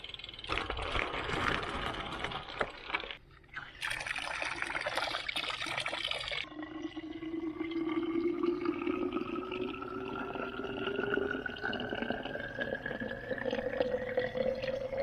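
Water runs from an outdoor water source near San Michele, first splashing and trickling, then filling a bottle with a rising gurgling tone as it fills, close and fairly quiet.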